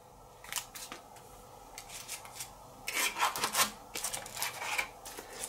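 Meadow board game cards are revealed on a table: soft, close rasping swishes and rubbing slides come in scattered bursts, with a busier cluster midway and no talking.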